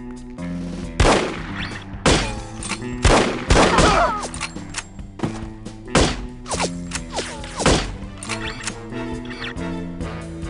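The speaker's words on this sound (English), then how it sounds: "Look out for the bullets!" Gunfire from the 2000 Monolith Productions shooter No One Lives Forever, with several sharp shots spread across the stretch over layered game music and effects, moderately loud.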